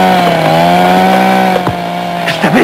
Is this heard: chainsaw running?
yes